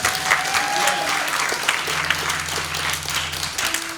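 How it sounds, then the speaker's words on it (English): Audience applause from a crowd at a live poetry and music event, dense steady clapping throughout with a faint held tone in the background. "How about a big round of applause for Ann?"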